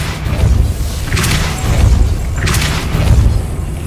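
Two heavy booming impacts of the Depulso force spell in Hogwarts Legacy, each a deep thump with a bright crackling burst, about two seconds apart, loud and close over a low game ambience.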